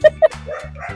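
A dog out on a walk gives two quick sharp yips, followed by lower whining, panting barks, all close and loud within about a second.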